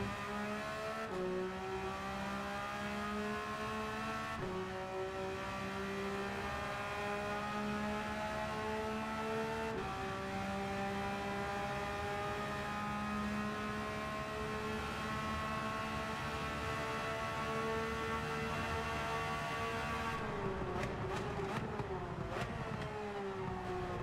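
A Porsche GT3 R race car engine in Gran Turismo 7 droning at high revs, pitch climbing steadily through each gear with brief dips at the shifts and a burst of rapid revving near the end.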